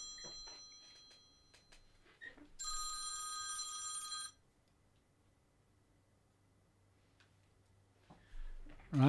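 A telephone bell rings in one loud, sustained burst of nearly two seconds partway through, surrounded by quiet room tone and a few scattered clicks and knocks.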